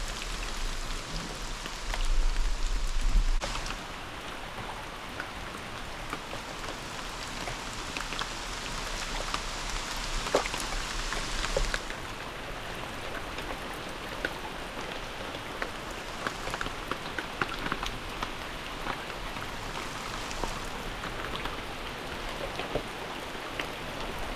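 Heavy pouring rain drums steadily on surfaces outdoors, a dense close hiss with scattered drop impacts and occasional louder bursts, continuous for the whole stretch with no voices.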